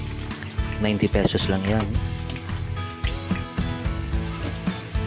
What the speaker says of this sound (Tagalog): habang nagpiprito tayo ng talong